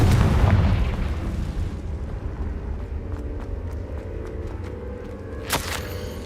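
Bombarda and Confringo spell explosions in the Hogwarts Legacy video game: a heavy, booming blast that rumbles and fades over several seconds, followed by scattered crackling debris and a sharp late pop.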